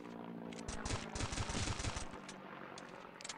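Rapid bursts of 1911 pistol fire in the side-scrolling shooter Stick Warfare Blood Strike, a quick volley of sharp shots packed close together before fading.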